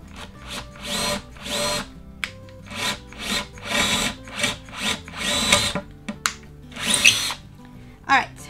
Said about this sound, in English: Making sure it's forward when you're drilling and reverse when you're pulling it out.